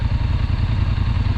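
Can-Am Maverick Max 700XT side-by-side engine pulling out on a first ride, a close, steady, throbbing mid-pitched engine rumble with a slight clatter.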